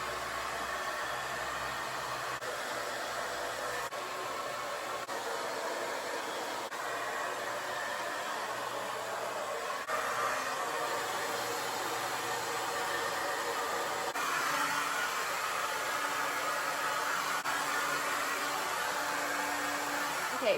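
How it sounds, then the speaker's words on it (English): Hair dryer fitted with a diffuser running on low heat and low air while drying curly hair, a steady close whooshing hum with slight shifts in tone as it moves, continuous with no talking. "now we're going to diffuse. So I'm gonna start with low heat and low air"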